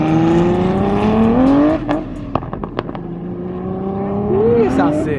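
Turbocharged BMW E46 M3 engine revving loudly up close at a drift session, steady rising drone broken by a few sharp throttle blips and a final climbing rev, with wind noise and a voice talking over it.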